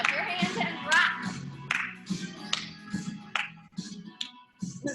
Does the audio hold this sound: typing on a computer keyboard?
no